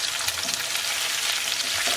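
A tuna steak sears in a hot pan with a continuous close, loud sizzle and faint crackles, and no voices over it.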